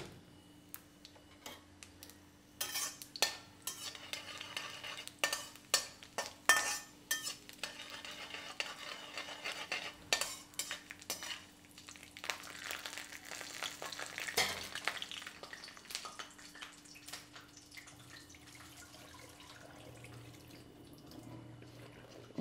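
Urad dal fries in a pan and is stirred for a brinjal poriyal. A quiet, steady sizzle runs underneath sharp, intermittent scraping stirs, and there is no speech.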